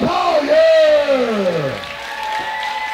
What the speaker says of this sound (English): Let's hear it for Anthony Gaines and Bill Collier.